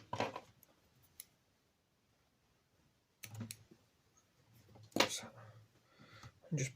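Scissors snip away excess material at the bottom of a fly being tied, giving a few short, crisp cuts separated by pauses, close and fairly quiet.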